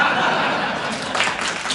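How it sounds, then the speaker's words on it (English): Audience applause at a live talk on reading people, a steady wash of clapping mixed with light laughter and chatter, filling the room at moderate loudness for the whole moment. "Give them a big round of applause."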